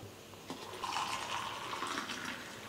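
About three spoonfuls of oil are poured into a pan, making a short, close, continuous splashing pour that swells and holds for a couple of seconds.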